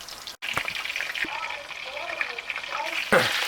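Meatballs for a southern fried meatball sub frying in a pan, a steady bright sizzle with bubbling and a few sharper pops as pieces go in, fairly close and continuous.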